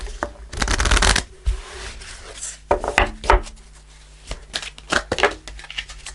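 Tarot cards being shuffled and pulled during a reading, a loud riffling burst followed by scattered softer slides, taps and flicks of cards, close up with no talking.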